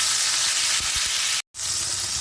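Mango pieces fry in a fennel and mustard seed tempering for a tomato chutney, making a constant close sizzle with a few soft low knocks and a momentary drop to silence.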